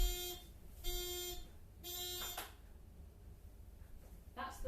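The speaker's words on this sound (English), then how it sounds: "That's the beep for them being done" An electronic oven timer beeps in three long, shrill pulses about a second apart, followed by a short fourth blip, over a faint background hum.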